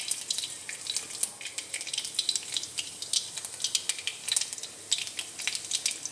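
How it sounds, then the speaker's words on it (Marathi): Garlic sizzles in hot oil that already holds crackling cumin and mustard seeds, a steady close frying hiss with small spits throughout and no talking. "मस्त तडकले ना त्यात लसूण टाकून घेऊया"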